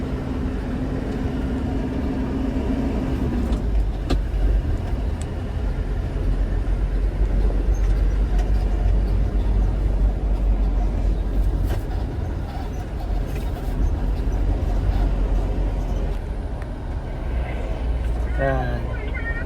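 Foton Tornado M2E van pulling away and driving off, a steady low engine and road rumble running throughout, with an idling tone fading early and people talking over it.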